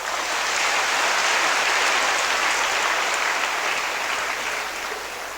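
A church congregation claps together during a sermon, a steady wash of many hands at moderate distance, sustained and gradually fading toward the end.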